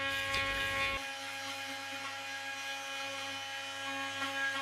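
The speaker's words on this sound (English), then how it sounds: "The AV70 RT 3 Max grout remover will remove grout and adhesive even in the most inaccessible corners." An AV70 RT 3 Max power grout remover runs with a steady high-pitched whine, starting with a brief rougher burst before settling into an even tone, loud and close with no speech.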